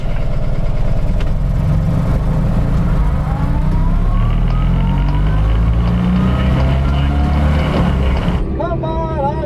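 Kandi K27 cars accelerating together to 35 on a drag-racing course before braking hard at the cones: a steady, loud motor and road roar with whining pitches climbing as speed builds, cut off near the end, with muffled voices underneath.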